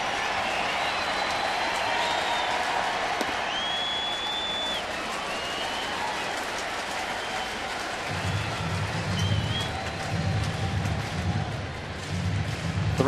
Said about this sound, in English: Finally, the crowd coming alive a little bit.